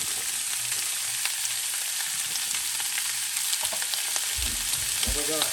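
Ground beef browning in a pan over medium heat for an eggplant lasagna, sizzling and frying loudly and steadily while a utensil stirs and scrapes through the meat, with a few heavier thumps near the end.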